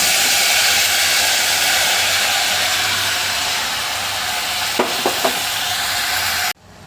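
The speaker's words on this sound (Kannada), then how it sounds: "ಈಗ ಅಕ್ಕಿ ಹಾಕ್ತೀನಿ." Soaked rice tipped into a hot pan of oil for brinjal ghee rice, with a steady frying sizzle throughout and a few short scraping stirs near the end before the sound cuts off.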